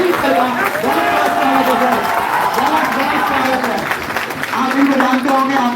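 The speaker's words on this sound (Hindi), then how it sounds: "स्वागत करिए जोरदार तालियों के साथ डॉक्टर साजिद अली सर का" A crowd at a teacher-exam coaching academy session applauds to welcome a biology teacher, the clapping continuous and moderately loud beneath a voice speaking over it.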